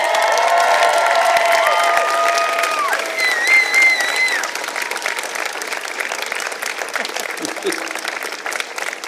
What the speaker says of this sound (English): let's do a shout out, a round of applause for the people in the audience